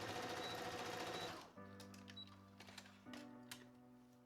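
A home sewing machine stitches the side seams of a summer dress in quick mechanical bursts. The run stops, restarts, and then stops again. Fabric rustles and clicks faintly between the runs.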